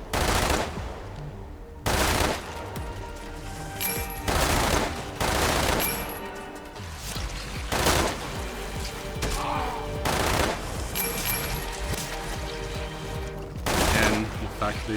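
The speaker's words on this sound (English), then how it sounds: "So now I've actually got a machine gun." Bursts of machine gun fire from a PDW in Umbrella Corps come in repeated short volleys every second or two, loud and close, separated by brief pauses, with a voice speaking between them.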